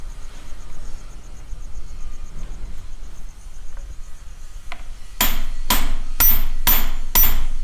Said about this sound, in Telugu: అలా కొడితే ఆ బిట్ అనేది కూడా మనకి లూజ్ అవుతుంది అన్నమాట